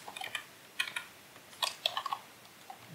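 Typing on a computer keyboard while creating an index.html file, with sparse, irregular key clicks arriving in short bursts and pauses, close and fairly quiet, with no talking.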